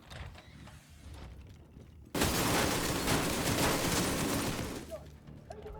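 Ammo stockpile detonating in a video game: quiet mechanical clatter, then a sudden loud burst of crackling, popping blasts that rolls on for about three seconds before easing off.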